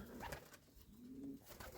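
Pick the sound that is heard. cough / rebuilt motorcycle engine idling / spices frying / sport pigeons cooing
sport pigeons cooing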